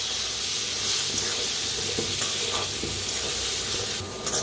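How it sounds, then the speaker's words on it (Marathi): Cut eggplant and pre-roasted potatoes sizzle and hiss steadily in a hot pan, a loud, dense frying sound with occasional stirring scrapes and no talking. "आता बटाटो भाजून घेतलेले आहेत त्याच्यात आता ह्याच्यात ताकवे वांगी कापून घेतलेले त्याला आपण मिक्स करून भाजूया"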